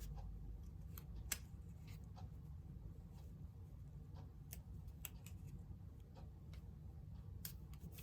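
Scissors trim card stock in a quiet room, a string of faint, crisp snips at an irregular pace, heard alone.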